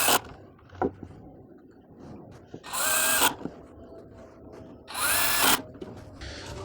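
A power drill drives 1-inch screws into a wooden leaf-blower holder in a garage workshop, two short, close bursts of whirring about two seconds apart, with faint handling knocks between.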